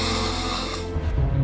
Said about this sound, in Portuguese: Por trás de um ronco inocente podem estar escondidas diversas doenças.